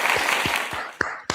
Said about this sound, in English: It's not often I get to give Donald Trump a round of applause.